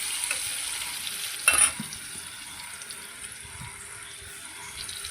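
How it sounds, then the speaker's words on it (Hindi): Green chillies and ginger fry in a pan for a fasting-day sabudana snack, a soft continuous sizzle with one brief stir or clatter near the start, close and quiet, no voices. "थोड़ी उसको फ्राई करेंगे हरी मिर्च को।"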